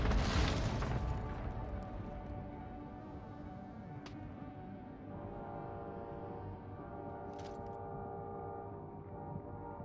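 Bombing-run explosions in Call of Duty Warzone's Verdansk: a heavy blast opens the clip, then a long, low rolling rumble drones on at steady volume, with faint distant booms and a brief sharp crack partway through.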